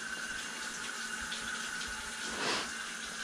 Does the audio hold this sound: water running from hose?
yes